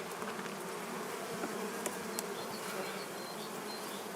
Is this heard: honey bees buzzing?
yes